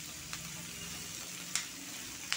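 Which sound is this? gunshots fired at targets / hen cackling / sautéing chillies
sautéing chillies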